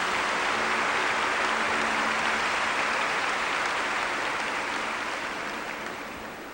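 A church congregation at a Catholic broadcast Mass applauds, a dense sustained wash of clapping from a large crowd that holds steady and then begins to fade toward the end.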